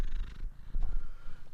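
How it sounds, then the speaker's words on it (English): A cat purrs close by in a steady, low rumbling rhythm that swells and dips with its breathing, fairly soft and continuous with no talk over it. "Cat ASMR."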